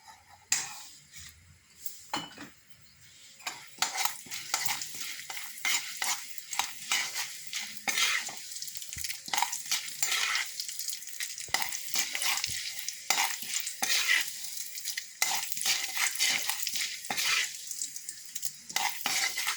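Spices and asafoetida crackle and sizzle in hot oil, with frequent sharp pops and occasional clinks of a utensil against the pan, close and lively.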